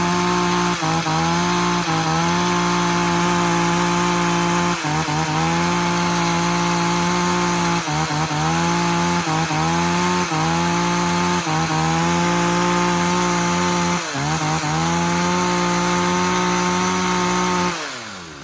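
A used Japanese chainsaw running on test, a loud, close two-stroke buzz that holds steady with brief dips and revs throughout before cutting off at the end.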